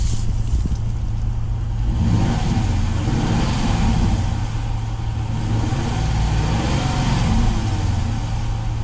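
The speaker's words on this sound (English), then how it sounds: "Alright, let's gonna give a couple of revs." A 2021 Dodge Durango R/T engine runs loud and close in a steady, sustained rumble with a slight rise in pitch early on, and no voices over it.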